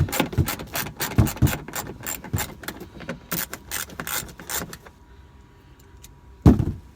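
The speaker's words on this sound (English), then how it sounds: "So we have to take the 7mm bolt out on both sides, just like this." A ratchet wrench clicks in rapid bursts while backing out small 7mm bolts in the cargo area of a 2017 Subaru WRX during a rear fog lamp install. The clicks are close, run for several seconds, then stop, and one sharp knock follows.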